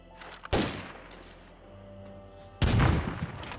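Video game gunfire from State of Decay 2: two sharp loud bursts of shots, one early and a heavier one near the end, separated by a quieter stretch of low ambient hum.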